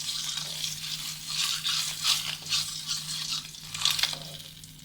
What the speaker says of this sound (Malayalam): ജസ്റ്റ് ഒന്ന് എല്ലാ ഭാഗവും ഒന്ന് ഫ്രൈ ആക്കി കിട്ടണം.